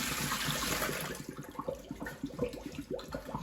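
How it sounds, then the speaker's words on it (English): Cold tap water runs steadily over frozen shrimp in a colander at a kitchen sink, a soft continuous splashing and trickling with faint irregular patter, quiet and close, with no talk. "now I run the cold water over them and they separate"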